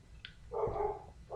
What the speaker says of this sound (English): if you guys hear a dog faintly in the background, my dog is freaking out